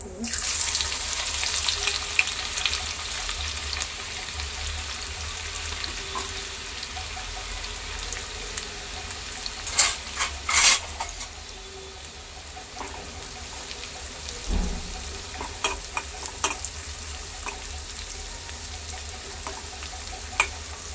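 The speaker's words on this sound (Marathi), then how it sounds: "कांदा व्यवस्थित तळून घेऊ आपण तेलामध्ये" Chopped onion fries in oil after cumin for a banana blossom dish, a steady close sizzle broken by sharp clinks and scrapes of stirring, with no talking throughout.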